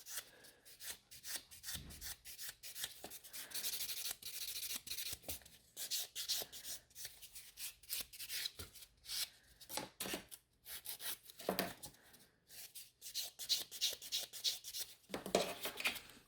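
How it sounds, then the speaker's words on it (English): A gel nail buffed smooth with a buffer, giving steady close scratchy rubbing strokes in quick bursts with brief pauses, quiet and alone without any talking. "Now I'm just buffing this nail to make sure it's nice and smooth."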